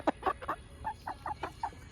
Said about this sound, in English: Listen to those little rooster sounds.